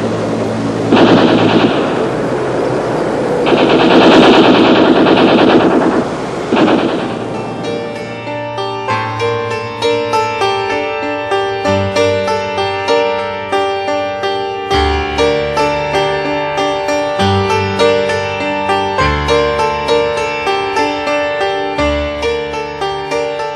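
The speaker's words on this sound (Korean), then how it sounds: "총소리가 많이 나옵니다." Machine-gun fire and gunshots form a loud, dense, continuous barrage for about seven seconds, and then a melodic song with clear tones takes over for the rest.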